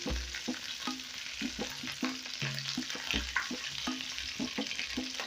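Garlic and ginger fry in a pan for mukimo wa njugu, a soft, quiet sizzle broken by frequent rhythmic stirring and scraping sounds.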